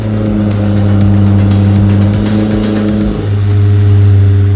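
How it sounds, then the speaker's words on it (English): The Lamborghini Temerario's engine holds a loud, close, steady revving drone, then shifts to a slightly different pitch and keeps going. No voices can be heard. "With Temerario, we are inaugurating a new experience in terms of engine sound."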